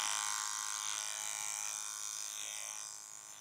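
An electric hair clipper cuts hair over a comb on a tapered neckline, a faint continuous high buzz that holds steady, then slowly fades toward the end.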